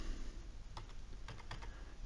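Several distinct keyboard keystrokes clatter on a computer keyboard, spaced irregularly with a few sharp clicks close together, near and fairly quiet over a low room hum, no talking.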